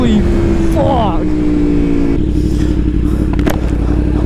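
A Yamaha R1 sport bike's engine screams up in pitch while accelerating, then holds a loud, steady rasp close to the rider, with wind rush and a sharp clack near the end and a voice talking over it.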